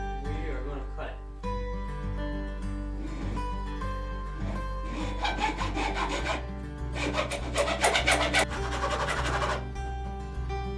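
A 3/8 inch wooden dowel rod, clamped down, is cut with a hand saw: rough rasping strokes that build and grow denser toward the end, heard over a steady tonal background.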